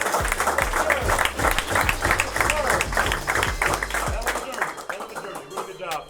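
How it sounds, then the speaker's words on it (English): Basketball team gathering clapping for a player after a win, a dense patter of hand claps running under loud, continuous talking, close by and fading slightly toward the end. "Let's clap for Quad one more time, man."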